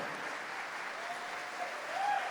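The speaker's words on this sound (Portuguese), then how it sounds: "Aplauda o seu irmão, vira para ele e aplauda." A church congregation applauds one another in a sustained, even wash of clapping from many hands that fills the hall without a break.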